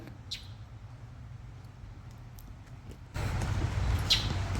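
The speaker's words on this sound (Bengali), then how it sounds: "পাখির কিচিরমিচির শব্দ অলরেডি আপনারা" Birds chirp at Flamingo Gardens, a zoo and botanical garden in Florida, with a few faint, distant calls standing out over a steady outdoor hum that grows louder partway through.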